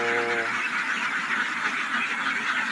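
Domestic ducks raised on a farm call out in a brief nasal honking burst at the start, then a dense, continuous flock clamor carries on nearby.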